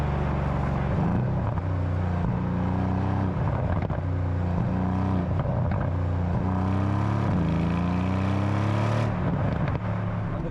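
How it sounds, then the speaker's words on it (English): A Mercedes C63 V8 engine in Sport Plus at normal road speeds, coming off the throttle, gives a steady, loud, low rumble with shifting engine tones and slight rises in pitch, heard alone throughout. "Even if I go into Sport Plus, and I want to invoke a bit of sound out of the car while doing normal speeds,"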